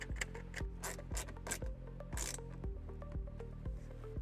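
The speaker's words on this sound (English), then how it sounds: "Use an 8mm socket to remove it and then reinstall." An 8mm socket ratchet works a tail light bolt on a Subaru WRX, giving a close, quiet run of rapid clicking pawl ticks in a steady back-and-forth rhythm, alone without talk.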